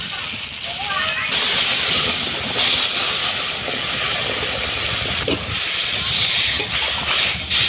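A paste of ground cumin, ginger and mustard thinned with water goes into hot oil with chili-powder masala. It sizzles with a loud, steady, broadband hiss for the whole stretch, with no talking.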